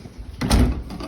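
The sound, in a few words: door being closed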